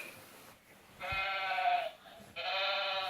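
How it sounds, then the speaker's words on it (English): Sheep bleating in two sustained, wavering calls, each about a second long and separated by a short pause, fairly close and clear with no talking. "But yes, it's a sheep."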